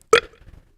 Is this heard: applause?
no